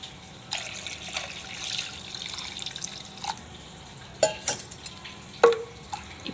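Water runs from a tap into a pot of mashed dal for tomato dal, a soft trickle with a few sharp clinks and splashes near the end, quiet and without talk.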